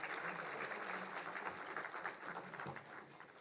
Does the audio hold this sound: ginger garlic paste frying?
no